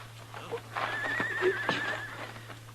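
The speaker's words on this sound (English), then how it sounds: "I'll take my horse then, Ellen." A radio drama horse effect: one quavering whinny at moderate distance with a few hoof clops around it, fairly quiet over a low steady hum.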